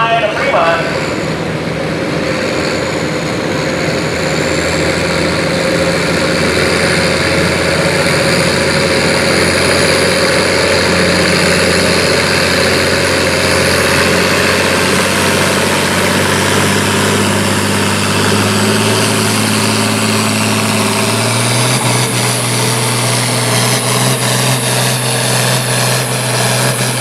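International 1066 tractor at a county fair tractor pull, its engine roaring loud and steady throughout, with a continuous low drone that shifts pitch near the end.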